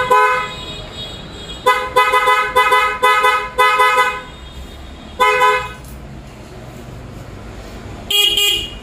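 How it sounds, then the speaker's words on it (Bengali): A PIAA horn fitted to a Honda CB Hornet 160 motorcycle sounds loud, close and bright in several separate blasts, short toots mixed with longer held honks, with quiet gaps in between. "আর এটা হচ্ছে পায়া হর্ন।"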